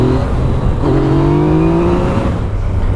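Engine of a 2017 Yamaha FZ-09 (MT-09) motorcycle droning loud and steady while riding, pitch rising slightly as the throttle opens, with no talk over it.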